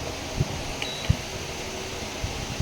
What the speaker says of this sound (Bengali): এই ইন্ডাকশান ওভেনে চালু করে দিই।